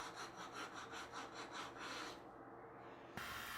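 A woodworking rasp with coarse and fine teeth shapes wood in steady, rhythmic back-and-forth strokes, about eight close, loud rasping passes, then a brief pause and a final scrape.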